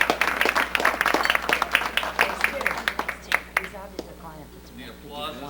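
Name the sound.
audience applause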